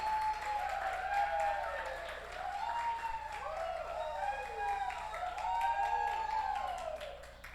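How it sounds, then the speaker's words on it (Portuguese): A church congregation applauds during a celebration service, a steady wash of clapping running throughout beneath a loud voice that carries over it. "por favor, aplaudam a Jesus."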